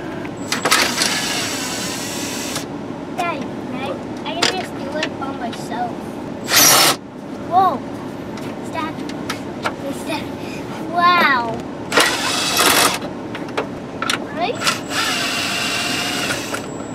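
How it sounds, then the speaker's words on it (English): A power driver whirs in several short bursts, removing four 7 mm screws from the instrument cluster bezel of a 2004 Tahoe, close and fairly loud, with light clicks and background chatter between the runs. "you're going to find 4 7-millimeter screws. We're going to go ahead and take them out."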